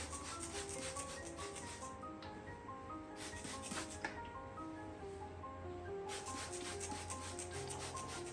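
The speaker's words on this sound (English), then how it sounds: "So what I want to do is just mist around there, rub a little bit in, hit the body." Hands rub moisturizer into hair locs after misting with spring water, a close, repeated rubbing rustle in rhythmic strokes, over faint background music.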